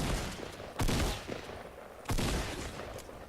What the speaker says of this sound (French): J'ai tout tiré mes balles dessus